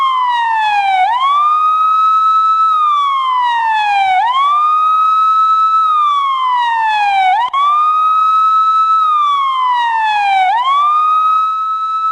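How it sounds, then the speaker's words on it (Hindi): Ambulance sirens wail loud and near in Pakistan, with a repeated rising-and-falling sweep that cycles steadily about every three seconds, with no other sounds. "पाकिस्तान में चारों तरफ एम्बुलेंस की आवाज और एम्बुलेंस के सायरन गूंज रहा था।"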